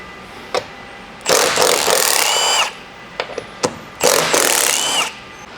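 A power tool backs out roof rack bolts on a Toyota 4Runner in two loud, close whirring bursts of about a second each, with sharp clicks and taps between them and no speech.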